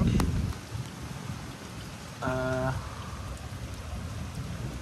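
Heavy rain pours steadily during an evening thunderstorm in Metz, France, a dense wash of hiss and patter with a short tonal hum rising briefly in the middle.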